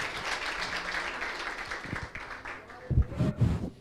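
A church congregation applauds with a fairly loud, dense spatter of clapping that fades off, followed by a few voices speaking at the end.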